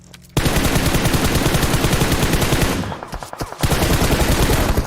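Video game gunfire in a Turkish tournament match: dense, loud automatic bursts rattle almost nonstop, broken by a brief dip of scattered single shots before the rapid fire resumes close and steady.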